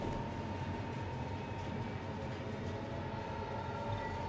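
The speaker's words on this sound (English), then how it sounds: "Noctis is free to roam about the train until it pulls into the station" A train in Final Fantasy XV rolls along with a steady, dense low rumble and rhythmic rail clatter, heard from inside the carriages without voices.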